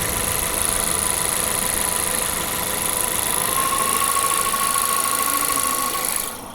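Inline-four engine of a 2025 Toyota Corolla idling steadily, a smooth even hum with a faint high whine, heard close and unbroken until it drops slightly at the very end.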